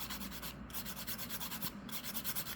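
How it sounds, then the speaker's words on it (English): A 180 grit fingernail file rasps back and forth against jewelry wire in quick, even strokes, a close, soft, scratchy rubbing that repeats steadily with no talking. "this is a 180 grit fingernail file"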